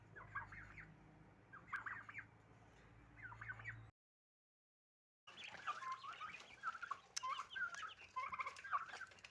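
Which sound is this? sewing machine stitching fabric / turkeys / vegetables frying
turkeys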